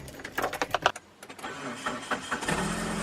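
A car engine cranks with rapid repeated starter bursts, pauses briefly, then catches and settles into a steady running idle, fairly close and loud, right after a starter replacement.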